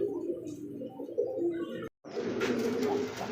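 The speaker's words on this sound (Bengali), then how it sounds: "দর্শক দেখতে পাচ্ছেন চমৎকার একজোড়া ইন্ডিয়ান লটন কবুতর" A pair of Indian Lotan pigeons coo steadily with low, throaty rolling calls, close and fairly loud, broken by a brief silent gap before the cooing resumes with faint chirps behind it.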